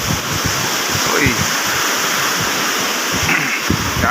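Strong, fast-flowing river water rushes steadily and close by, a dense continuous roar with wind buffeting the microphone and brief low thumps.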